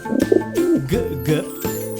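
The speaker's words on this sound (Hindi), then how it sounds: "कबूतर" Soft pigeon cooing, a few low throaty burbling calls close by, with short pauses between them.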